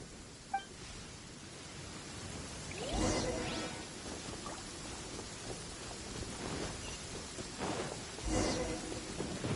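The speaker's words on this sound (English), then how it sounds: "Uh-oh! Lightning storm!" Steady rain hiss fills a Genshin Impact lightning storm, broken by two bursts of thunder or lightning crashes, the second rumbling a little louder near the end.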